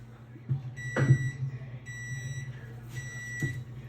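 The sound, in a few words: kitchen timer beeping at end of 8 minutes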